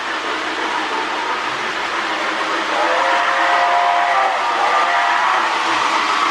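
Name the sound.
Lionel postwar 2046 Hudson model train running on track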